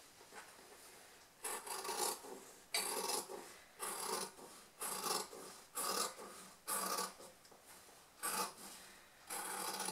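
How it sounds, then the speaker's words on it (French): Scissors cut a diagonal through two layers of fabric, a close, raspy rhythmic snipping repeated about eight times in steady strokes, with no talking. "je peux découper ma diagonale"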